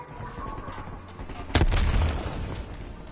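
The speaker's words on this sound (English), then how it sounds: "Throwing frag." A frag grenade goes off in a video game as a single sudden boom partway through, followed by a rumbling tail over a low background of game noise.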